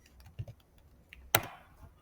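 Keystrokes on a computer keyboard while a stream name is entered into chemical process simulation software: a few soft scattered taps, then one sharp louder key strike, close and quiet, with no talking.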